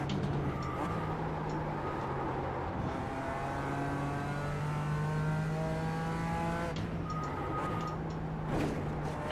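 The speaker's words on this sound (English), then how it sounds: "There's like a line of GT3s coming." GT3 race cars in iRacing at the Nürburgring Nordschleife, engines droning steadily with rising and falling revs as several cars close in and shift gears, loud and continuous throughout.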